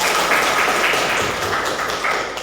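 A classroom of secondary vocational students clapping together, a dense steady patter of many hands sustained at moderate loudness for a couple of seconds without speech.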